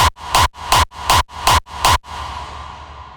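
Gated electronic kick drum with reverb and an automated mix level hits six times in a steady fast rhythm, each hit a loud punchy thump with a bright noisy burst cut off sharply, then a reverb tail fading away.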